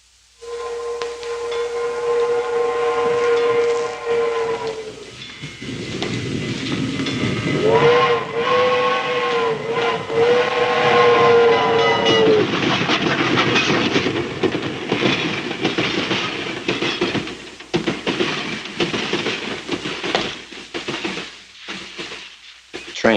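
A steam train passes close by, its whistle sounding in two long, loud wailing blasts over heavy hissing steam and rumbling rail noise that carries on after the whistle stops.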